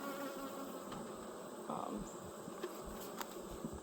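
Honey bees humming steadily around an open hive, a dense continuous drone close by with a few louder individual passes.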